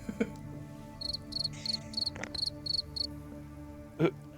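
Crickets chirp in regular bursts of rapid trills, fairly close and clear, over a low background hum, with a few faint clicks and knocks in between.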